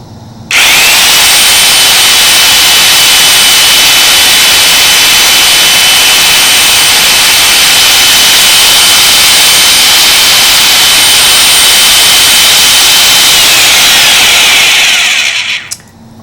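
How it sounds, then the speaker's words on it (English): A power drill with a mixing paddle submerged in liquid whirs at high speed, loud and steady for about fifteen seconds, then winds down and stops. "Continue mixing with the drill in 30-second increments at a time"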